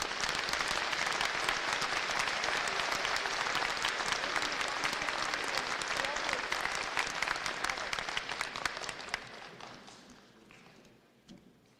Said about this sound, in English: Will everybody join with me as we give one more round of applause for our